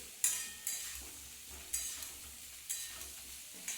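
Spices sizzle steadily in oil in a pan up close, broken by sharp scraping stirs of a spoon about once every second.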